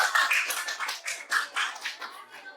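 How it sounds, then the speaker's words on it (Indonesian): Applause from an audience at an Indonesian school or presentation event, a brief patter of clapping hands that pulses unevenly and fades toward the end, heard alone without talk. "Kita beri aplaus dulu."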